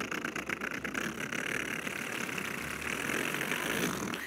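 A voice imitates an old car engine, a continuous rough, sputtering rumble held steadily for several seconds.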